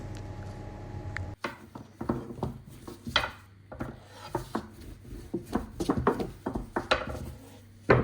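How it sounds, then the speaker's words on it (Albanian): Pastry dough sheets for small pies are rolled out one by one with a rolling pin on a board, giving repeated close rubbing strokes with light knocks between them. "Do t'i thollojmë petët një nga një"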